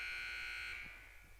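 A loud electronic buzzer sounds in a gym at a high school volleyball match between the Lovington Lady Cats and Clovis, a steady harsh tone marking the end of the break between sets, holding then fading over about a second.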